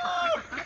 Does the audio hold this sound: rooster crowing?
yes